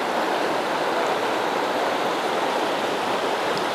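A river in the Olympic National Forest rushes steadily past a gravel bar, a dense, unbroken roar of flowing water close by, with no voices over it.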